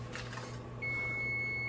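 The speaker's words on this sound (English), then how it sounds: "the alarm is going off that we need to go get the chicken" A kitchen timer alarm sounds during family meal prep, a single steady electronic beep that starts partway through and holds at a faint, even level over quiet room noise.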